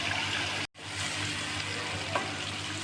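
Tomato puree frying in oil in a pan for a chicken and potato curry, a steady close sizzle with soft stirring scrapes and one brief break in the sound.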